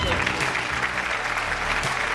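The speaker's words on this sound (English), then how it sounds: "A round of applause for her." Evening corporate gathering audience gives a round of applause for an executive coming to speak, a loud, steady, close crowd clapping with a low hum of voices and music underneath.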